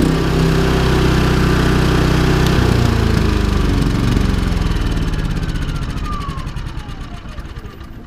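A Champion 75537i 3100-watt inverter generator runs outdoors beside an RV, its steady engine drone loud and close before easing down toward a quieter idle over the last few seconds.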